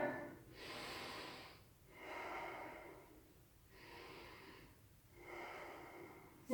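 Slow, deep breaths are drawn in and let out during a yoga pose, about five breaths in a steady rhythm. They are close but soft, with quiet pauses between them and no talk.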